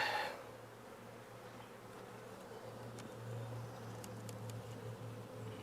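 Honey bees hum around a small starter hive, a steady low drone holding close by throughout, with faint scattered ticks and rustles above it and no voices.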